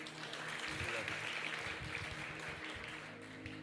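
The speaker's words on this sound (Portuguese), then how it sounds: "Uma salva de palmas aqui para o Levi" Worshippers at a Sunday church service give Levi a round of applause. The clapping is faint and distant, mixed with a low, sustained voice or musical tones underneath, and slowly thins out toward the end.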